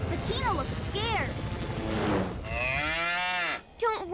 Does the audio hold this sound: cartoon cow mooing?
yes